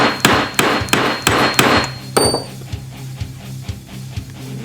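Hammer blows driving a part into the rear differential case of a Wildcat 1000, about eight sharp metallic strikes in a steady rhythm, then softer, quieter taps trailing off.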